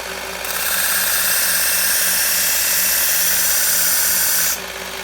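Steady, loud rushing roar as a belt grinder reprofiles the edge of a Kansept Model 6 knife. It starts just after the opening, holds evenly for about four seconds, then drops back to a quieter running hum.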